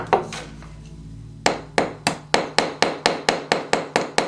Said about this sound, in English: I'm going to flip my hammer over and use the small side